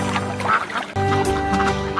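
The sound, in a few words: duck quacking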